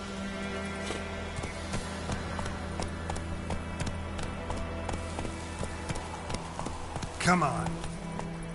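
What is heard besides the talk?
Roach the horse galloping, from the video game The Witcher 3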